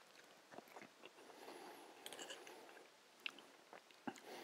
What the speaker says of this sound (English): A bit of nice crunch there from both the peanuts and the fried shallots.